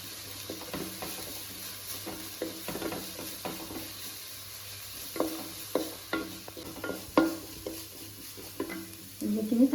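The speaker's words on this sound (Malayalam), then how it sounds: "നന്നായിട്ട് ഇളക്കി കൊടുക്കണം കേട്ടോ." Onion and ground paste fry in oil in a pan for homemade noodles, stirred continuously: a soft sizzle runs underneath while spoon scrapes and taps against the pan come in irregular bursts, growing busier and louder toward the end, with no speech.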